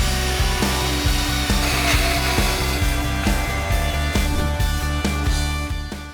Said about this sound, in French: C'est là que revient la scie circulaire à main de 12 volts.